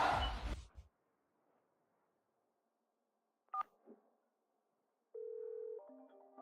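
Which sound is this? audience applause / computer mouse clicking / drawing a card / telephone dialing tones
telephone dialing tones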